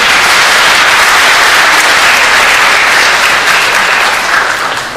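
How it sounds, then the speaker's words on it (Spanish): An audience at an academic law convention breaks into loud, dense applause that holds steady and then starts to fade near the end. "Un fuerte aplauso, por favor, por ello."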